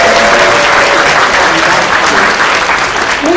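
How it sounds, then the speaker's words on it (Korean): Audience applause at a film festival talk event, a dense, steady wash of clapping from a large crowd filling the whole stretch at close, loud level. "같이 박수 한번 치겠습니다."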